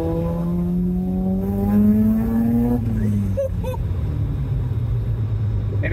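Self-built naturally aspirated Mazda RX7 with a bridgeport 13B rotary engine revs hard toward 8000 RPM, its rising buzzy harmonics climbing steadily, then dropping back to a loud, rough idle rumble; close and continuous.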